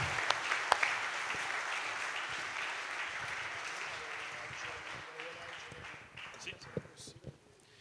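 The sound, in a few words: applause at air force brigade ceremony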